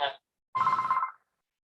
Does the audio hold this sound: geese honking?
no